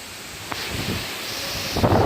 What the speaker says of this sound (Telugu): చాలా అంటే చాలా గాలి ఉంది.